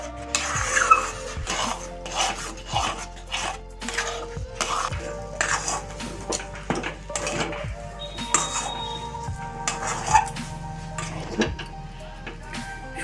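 Semolina is stirred in a pan to dry off the water, with a metal spoon scraping and clinking against the pan in an irregular, close, fairly quiet rhythm.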